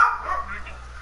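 Dogs in a video game give a short burst of yips and whimpering barks, close and brief, with a voice talking over them.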